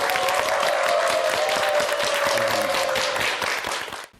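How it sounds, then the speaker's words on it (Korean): Studio audience applause greets a makeup artist's lecture on a Korean morning talk show, with steady dense clapping throughout that fades out near the end. "방훈 메이크업 아티스트의 강의를 여러분과 함께 박수로 청하겠습니다."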